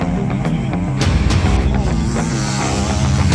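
Motocross bikes race over a big downhill double jump and along a braking straight at the 24MX Tour in Romagné, engines blaring loud and continuous with revving surges and a few sharp bursts.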